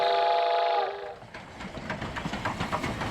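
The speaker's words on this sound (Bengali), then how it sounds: "ট্রেনের চাকার শব্দ যেন বলছে, কলকাতা, কলকাতা, কলকাতা।" A train sounds a long horn blast, then its iron wheels rumble and clack rhythmically over the rails as the cars roll on, fairly faint and steady.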